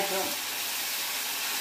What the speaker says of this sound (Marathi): हे तेल सुटेपर्यंत हलवून घेऊ. मस्त हलवत राहायचं